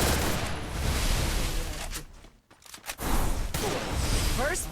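Gunfire in a mobile shooter video game, scoring a headshot for first blood: dense continuous shooting with a brief drop near the middle, loud and busy throughout, with a voice faintly mixed in.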